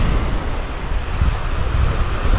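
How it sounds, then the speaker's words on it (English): Blustery wind buffeting the microphone over steady surf rolling onto a North Naples, Florida beach while a storm passes offshore, a loud, continuous wash of noise with no talking. "Wind, waves, rain."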